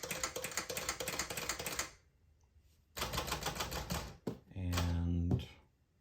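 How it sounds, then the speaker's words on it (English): Typing and key clatter from a 1959 Smith Corona Sterling manual typewriter, including use of the backspace, heard close up in bursts with a pause, followed by a brief clunk and a louder mechanical rattle. "You can go back a space with the backspace button."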